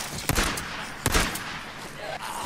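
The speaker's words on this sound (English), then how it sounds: "Skizzo, stop shooting!" Gunfire in the zombie-survival video game Days Gone, a couple of sharp shots standing out over a busy background of game noise, with faint voices mixed in.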